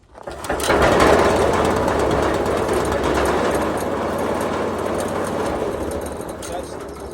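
A repaired Honda small engine starts up and runs, a steady loud mechanical drone that holds for several seconds with a person talking over it.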